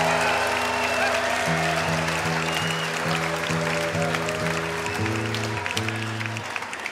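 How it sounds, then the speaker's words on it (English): Concert crowd applauding at a live show at the Capitol Theatre, steady broadband clapping sustained throughout with sustained musical tones, likely band instruments, running underneath. "Big round of applause, everyone."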